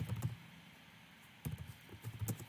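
Fingers tap at a computer keyboard in short quiet bursts, clusters of soft clicks separated by a near-silent pause, close to the microphone.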